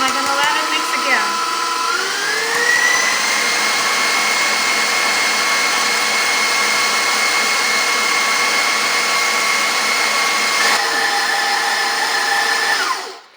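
An electric mixer beats marshmallow cookie mixture with butter vanilla flavoring, a loud, close, steady motor whine that rises in pitch after a couple of seconds, holds, then cuts off at the end.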